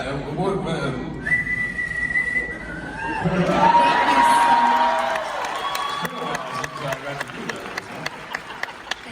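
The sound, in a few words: man whistling for a panel audience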